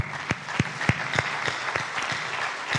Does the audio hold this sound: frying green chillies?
no